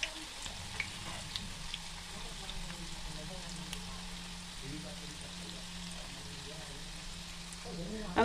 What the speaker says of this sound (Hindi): तो लीजिए मंचूरियन के लिए गोली तल रही है।